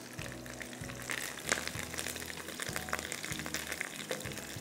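Curry leaves sizzling in hot oil with garlic, a soft steady crackle and hiss with a few brighter pops, fairly quiet, over a low rhythmic hum in the background.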